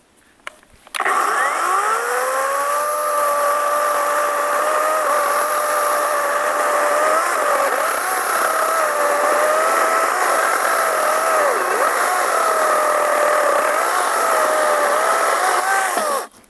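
Start Pro SCS/B-21/16 cordless chainsaw running at its switched speed, a loud, continuous high whine held steady for about fifteen seconds with a slight wavering pitch, no cutting or talk.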